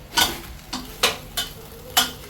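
Oxtail browning in a pot gives a soft sizzle under five sharp, evenly spaced scrapes and clacks of stirring, close by, with no voices.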